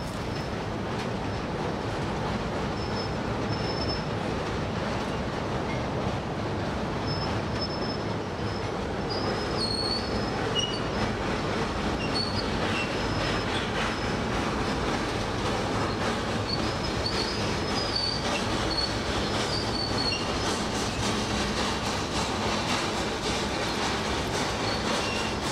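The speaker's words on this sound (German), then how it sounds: "Die hintere Lok schiebt jetzt den Zug allein in die Mühle." A rear locomotive pushes a train into a mill on a Javanese railway, giving a continuous heavy rumble of rolling wagons with intermittent high wheel squeals running through the whole stretch.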